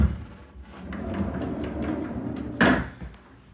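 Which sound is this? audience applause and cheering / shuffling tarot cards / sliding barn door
sliding barn door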